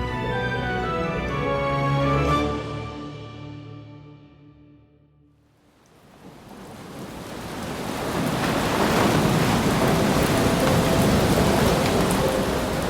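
A rain and stormy-weather sound effect of heavy rain and rough seas swells in as a fading musical passage dies away, then holds as a loud, dense, hissing downpour with low rumbles.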